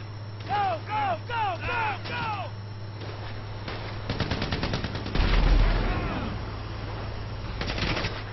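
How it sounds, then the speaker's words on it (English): Rapid automatic gunfire rattles through a GTA V shootout, loud, dense bursts that come in waves, with a heavier blast midway, after earlier whistling, sweeping tones and a shouting voice. "So I guess we're shooting our way out of here!"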